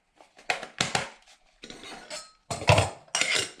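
A battered fifteen-year-old metal cook pot and a small stove being packed together inside a Stanley container, giving close clanks and rattles in separate bursts with short pauses between, no speech.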